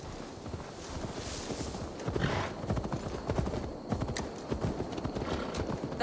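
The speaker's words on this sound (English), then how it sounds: "Let's deliver Magni his horses." Horses' hooves clip-clopping steadily in Assassin's Creed Valhalla, a dense rhythmic trot under wind and ambient game noise, with no one talking.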